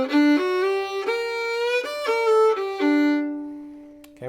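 A bluegrass fiddle plays the next phrase of a break, a run of bright bowed notes with sliding, sustained tones in a steady melodic line, played solo and up close with no talking.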